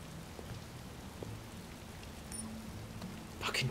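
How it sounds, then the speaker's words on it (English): Heavy rain falls in the video game Detroit: Become Human, a faint, steady hiss of rain with a low hum beneath and a brief louder clatter near the end. "Oh, now we're in heavy rain."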